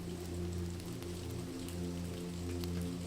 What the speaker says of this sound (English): harmonizing with the pitter-patter of raindrops against the window pane